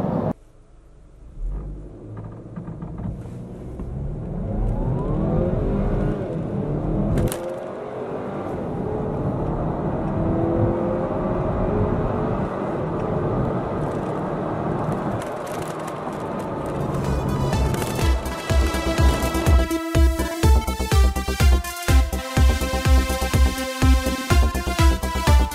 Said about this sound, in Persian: یه تست شتاب میگیریم و ببینیم که عملکرد موتور گیربکس این ماشین چطوره